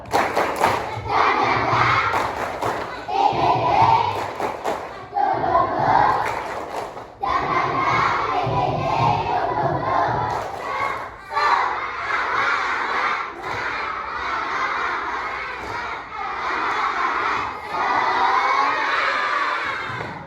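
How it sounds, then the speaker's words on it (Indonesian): Primary school children in a combined grade 4 and 5 classroom chant a rousing clapping routine together, loud unison shouting with repeated clap bursts and cheering swelling across the whole stretch. "Tepuk semangat bisa?"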